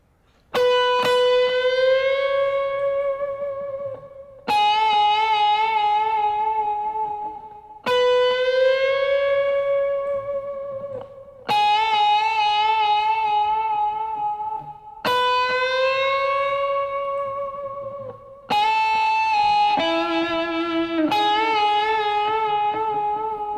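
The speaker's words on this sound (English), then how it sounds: "spooky guitar line in the center section. Double track, 1 high, 1 low, same notes, different octave" Double-tracked electric guitar line, one part high and one an octave below on the same notes, soaked in reverb and delay; six slow, eerie sustained phrases with bending pitch ring out alone, each swelling then fading before the next.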